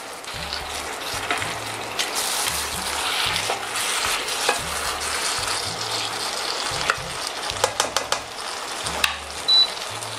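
Prawns, black mushrooms and soy sizzle and are stirred in a hot wok, a continuous loud frying hiss with scraping stir strokes, close up and without talk.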